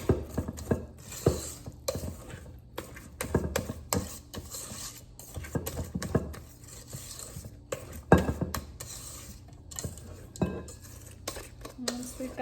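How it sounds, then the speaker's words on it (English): Thin chocolate sheet cake batter is stirred by hand in a bowl, with a utensil scraping and clinking against the sides in an irregular rhythm, close by and moderately quiet. "fairly thin cake batter, so you can easily mix it by hand."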